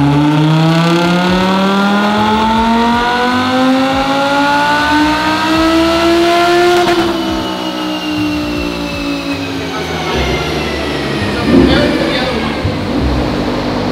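A supercharged Audi R8 on a dyno, its engine climbing through a long loud rev with rising whine, shifting midway and pulling again before easing off into a rumbling idle.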